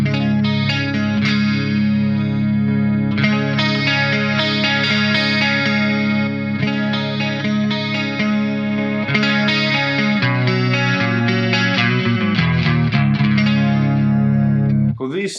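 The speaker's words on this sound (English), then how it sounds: "we're on the ADA clean channel" A clean electric guitar through a BOSS GE-7 EQ pedal into a solid-state amp's clean channel plays shimmering chords and arpeggiated notes with a chorused sheen, loud and close, ending in a quick flurry.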